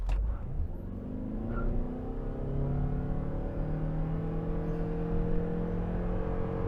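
A 2021 Toyota RAV4 Prime accelerates hard from a standstill toward 60 mph on cold tires, with a steady rising whir and drone that climbs smoothly in pitch, heard from inside the car at moderate volume.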